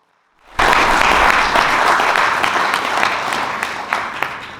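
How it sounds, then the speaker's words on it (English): Applause erupts suddenly from a lecture audience after a history talk, loud dense clapping that holds strong and then slowly eases toward the end. "You'll want to wait with that applause till the end."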